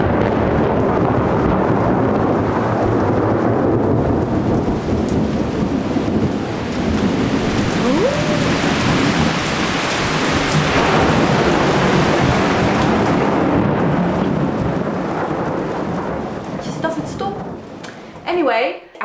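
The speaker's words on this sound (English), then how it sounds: "It's just one storm after another." Heavy thunderstorm with rumbling thunder rolling over a constant roar of pouring rain, loud and sustained, easing near the end where a voice briefly comes in.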